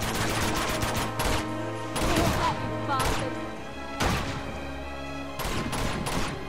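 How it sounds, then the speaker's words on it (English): Bursts of gunfire from a firefight in the action game Uncharted 2, coming in several loud volleys separated by short gaps over steady game sound. "Who else is shooting me?"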